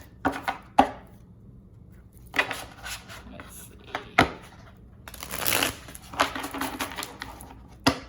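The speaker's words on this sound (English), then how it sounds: "See how they shuffle." Smith-Waite Centennial tarot cards are shuffled in several quick riffling bursts, crisp and close, separated by short pauses, with a brief spoken remark.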